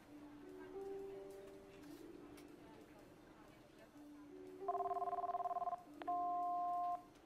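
A telephone call rings out in an office line before a recorded voicemail greeting, with steady tonal ring bursts and dial tones repeating over several seconds, clear and close.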